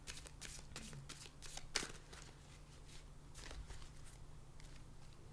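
Quiet, continuous tarot card shuffling, a rapid series of soft riffles and taps repeating throughout, with no voices.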